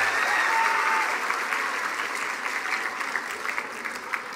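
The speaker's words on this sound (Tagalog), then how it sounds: "Isang tingin sa kanan kay tatay at nanay, malakas na palakpak." Loud applause from a large audience of parents and graduates at a senior high school graduation ceremony, a dense sustained roar of clapping that gradually thins toward the end.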